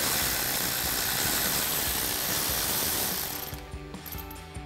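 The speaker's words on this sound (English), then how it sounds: "And we're going to grab our 12mm socket on our ratchet," A ratchet with a 12mm socket backs out a brake line bracket bolt on a Tacoma steering knuckle, a dense, rapid clicking close up that slows into a few separate clicks near the end.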